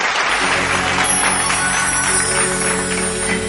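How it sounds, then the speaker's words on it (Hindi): Audience applause at an Odia devotional bhajan performance on stage, loud continuous clapping from a large crowd with a low musical drone underneath. "गोटे जोरदार करताली अनुरोध करछन्ती।"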